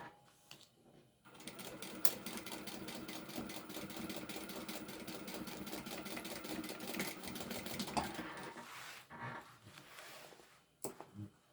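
A sewing machine top-stitches a bag seam, running in one steady, even burst of rapid stitching for most of the stretch before slowing and stopping, with no talk over it.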